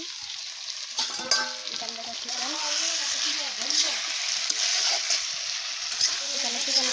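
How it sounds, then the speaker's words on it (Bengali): Chicken sizzles and crackles as it is sautéed kosha-style in a pan, with steady frying hiss, occasional stirring scrapes, and a voice speaking a word in the background. "চিকেন কষা হচ্ছে।"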